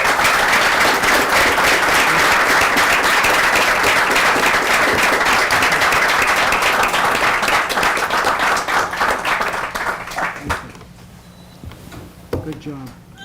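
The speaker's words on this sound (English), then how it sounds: "if we can give everyone a round of applause" A seated audience at a panel discussion gives sustained, dense applause with many hands clapping for about ten seconds before it fades out, followed by scattered sounds and brief voices.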